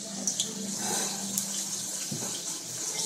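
Steady hissing sizzle of chips frying in hot oil, with faint crackles and pops throughout, fairly close and continuous.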